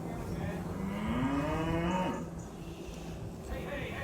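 A single long moo from cattle on a British farm, loud and close, rising and then fading out over a couple of seconds against steady outdoor noise.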